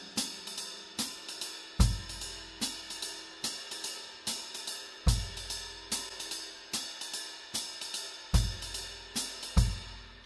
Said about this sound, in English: Now I can play that beat 2 on the bass drum as well